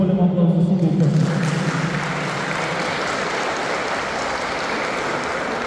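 Crowd applause at the closing ceremony of a memorial football tournament, a dense steady clapping that takes over after a voice over a loudspeaker fades out.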